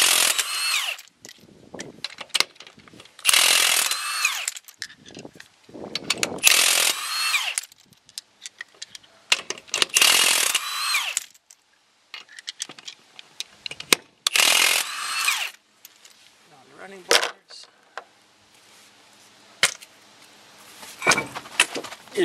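A power impact tool works on a wheel of a 1979 Dodge Ram van, several loud bursts of whirring and rattling separated by short pauses, close and sharp, followed by lighter clanks and mechanical noises.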